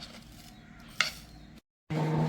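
Spoon stirring a cassava flour mixture with cardamom and sugar for kumbilappam, a soft scraping and rubbing in a pan with a brief clink, then a moment of silence and a steady hiss.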